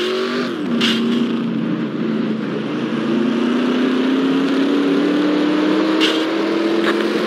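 NASCAR race car engines in a PC racing game drone loudly and continuously, with the pitch dipping and then climbing steadily as the car accelerates, alongside a faint whoosh of other cars passing.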